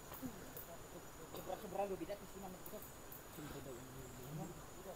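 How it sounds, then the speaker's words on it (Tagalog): A faint, steady drone of a huge honeybee colony hanging high up in Kalinga, a low hum throughout with soft murmuring voices beneath. "Yan po ang mga sundalo ng pukyutan o honeybee."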